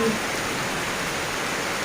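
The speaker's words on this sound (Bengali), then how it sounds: "এখন দুপুরবেলায় বন্ধুরা কী বৃষ্টিটা এসেছে পুরো একদম অন্ধকার হয়ে গেছে বৃষ্টি পুরো বৃষ্টি আর বৃষ্টি" Heavy rain pours down on a dark afternoon on New Year's Day. It makes a steady, dense hiss with no breaks from start to finish.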